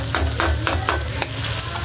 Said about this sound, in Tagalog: Haluin po ng maigi.